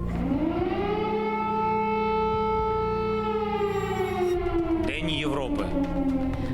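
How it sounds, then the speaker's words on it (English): An air raid siren wails across Ukraine, a loud sustained rising-and-holding tone with strong harmonics that sweeps steadily for several seconds before winding down, with a voice briefly audible near the end. "Zelensky was interrupted by an air raid siren."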